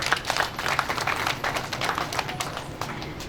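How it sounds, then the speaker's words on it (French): Crowd applause at a pharmacy inauguration ceremony in honor of the marchers, a dense, steady patter of many hands clapping throughout, fairly loud and continuous, with no talk over it. "On peut applaudir pour eux."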